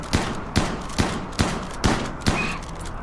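Shotgun blasts in the colony-survival game RimWorld: six sharp, loud reports fired at a steady pace about half a second apart, each with a brief decaying tail and no voices.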